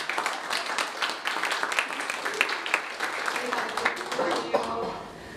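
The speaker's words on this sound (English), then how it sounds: "Let's applaud our" A church congregation at a Unitarian Universalist homecoming service applauds, a dense scattered patter of many hands clapping steadily for several seconds before tapering off.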